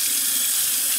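Cold water gushing steadily from a household tap into a sink early in the morning, a close, continuous broadband splashing rush with no pauses.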